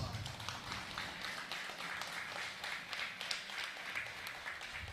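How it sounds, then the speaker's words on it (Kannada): A standing audience at a journalists' association event applauds soldiers with sustained, fairly distant clapping mixed with hall murmur, heard faintly throughout. "ಎಲ್ಲರೂ ಈ ದೇಶದ ಸೈನಿಕರಿಗೋಸ್ಕರ ಒಂದ್ಸಲ ಎದ್ದು ನಿಂತು ಚಪ್ಪಾಳೆ ಕೊಡೋಣ"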